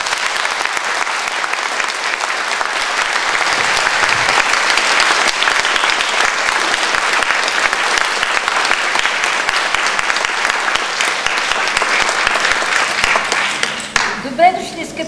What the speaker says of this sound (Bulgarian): Вашите аплодисменти за Виктория Петрова.